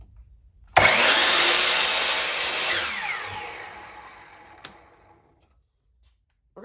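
A wooden block has its very end trimmed off with a power saw, a loud burst of cutting that begins abruptly, holds steady for a few seconds and then winds down and fades to silence.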